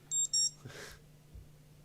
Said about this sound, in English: Was that your alarm right there?